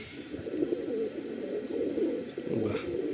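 A single male Andhra pigeon with feathered legs coos softly and close by in a low, throaty, repeated murmur against a quiet background.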